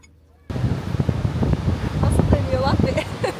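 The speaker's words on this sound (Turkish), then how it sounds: "Aşırı rüzgar var arkadaşlar." Heavy wind buffets the microphone in a constant low roar at a campsite after a quiet start, with faint voices and bird-like chirps underneath.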